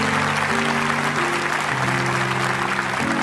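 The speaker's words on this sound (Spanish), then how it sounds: "Quiero darle un aplauso a todos esos que están de pie." Applause from a church congregation fills a worship service, dense and steady throughout with sustained tones from music or voices beneath it.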